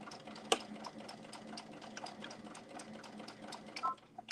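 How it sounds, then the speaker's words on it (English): A sewing machine stitches a DIY backpack in a quick, steady mechanical rhythm of rapid needle strokes, close and fairly quiet, with a couple of sharper clicks; no talking. "You want to sew straighter than what I'm sewing."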